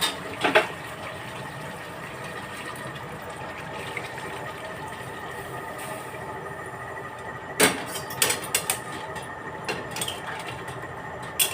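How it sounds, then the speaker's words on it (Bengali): Hot water poured into a pot of chicken curry makes a steady, moderate rushing splash, with a few sharp clinks of utensils against the pot near the start and toward the end. "এবার আমি আগে থেকে করে রাখা গরম জল এখন এর মধ্যে দিয়ে দেবো"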